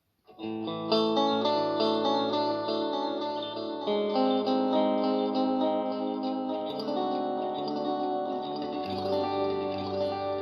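Electro-Harmonix Canyon delay pedal set to echo mode, repeating sustained guitar chords and notes that trail off in soft echoes, loud and steady for about ten seconds with no talking.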